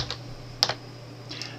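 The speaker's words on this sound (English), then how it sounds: "With your right hand, tap once on the letter R on the keyboard." A single key tap on a computer keyboard, quiet and close, as the R key is pressed once while another key is held, with faint softer clicks around it over a steady low hum.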